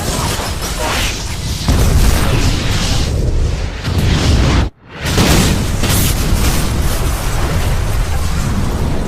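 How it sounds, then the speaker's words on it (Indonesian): A loud, roaring explosion-like rumble with heavy low end, briefly cutting to near silence before the roar resumes. "tempat itu langsung meledak dan terbakar"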